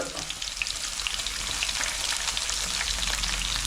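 Ginger, garlic and green chili fry for a buffalo curry, a dense close sizzle that crackles continuously like heavy rain, with faint stirring and no voices.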